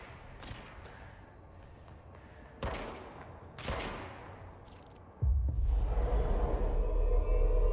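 Gunfire in the Control video game comes as a few sharp, explosive bursts spaced a second or so apart, followed by a loud, sustained roaring blast that holds to the end.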